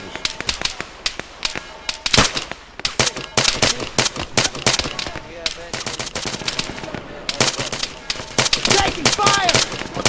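Rapid bursts of automatic gunfire in the Arma 3 video game, loud and dense with sharp repeated cracks through the whole stretch, while players talk over the shooting.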